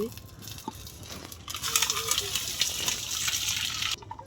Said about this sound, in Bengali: সিদ্ধ হয়ে গেছে, জলটা ছেঁকে নিচ্ছি